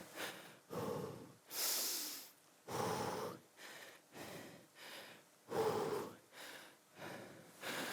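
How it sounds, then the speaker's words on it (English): Deep, heavy breaths in and out during an indoor cycling HIIT workout recovery, about seven long rhythmic inhales and exhales, close and fairly loud, with no talking. "take big, long, deep breaths"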